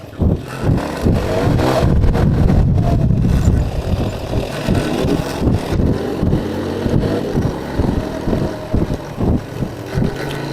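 A motorbike climbs uphill toward Gorakh Hills station, its engine loud and close, first in a sustained throaty drone, then in choppy uneven pulses over wind buffeting.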